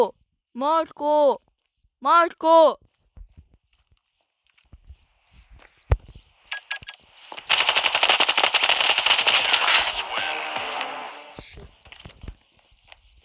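A few electronic beeps, then scattered pops build into a rapid, loud crackling string of firecrackers that fades into sparse pops.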